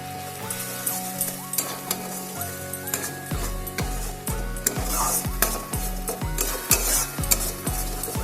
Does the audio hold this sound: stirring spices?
yes